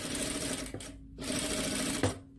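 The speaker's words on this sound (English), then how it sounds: "On the edge of that masking tape there, just stitch down." A sewing machine stitches a seam in two runs of steady buzzing, close and fairly loud, with a short pause between them and a light click near the end.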